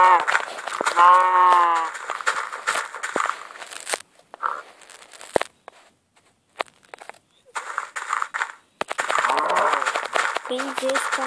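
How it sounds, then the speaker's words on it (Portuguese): A cow gives one drawn-out moo early on, then people talk over crunching footsteps and scattered knocks that come and go. "Uma vaca."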